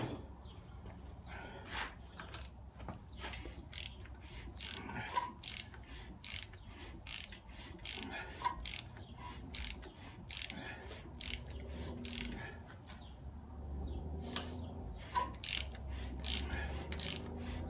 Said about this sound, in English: roll the motor over one time